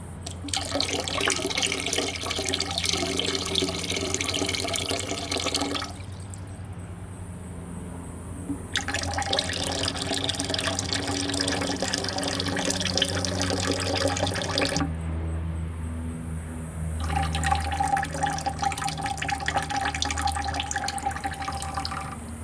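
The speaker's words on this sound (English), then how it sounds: "So I've got to rinse it out until I get a neutral pH." Tap water runs in bursts into a sink while refined silver is rinsed after a nitric acid process, starting and stopping several times with brief quiet gaps, steady and close.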